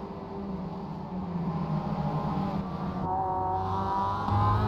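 A Mazda MX-5 Cup race car in iRacing at Oulton Park drones steadily at full throttle, its engine note holding and rising slightly as it pulls, loud and continuous with no talk over it.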